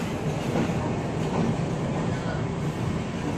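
An express train from Nanded rolling along, a dense steady rumble with clickety-clack rail noise heard from on board, under a voice speaking.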